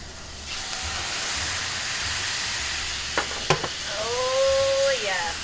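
Shrimp sizzle and fry in a pan with seafood flavors, a steady broadband hiss throughout, broken by a few sharp utensil clinks and a short whistling squeal near the end.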